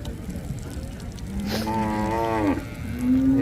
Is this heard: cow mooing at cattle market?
yes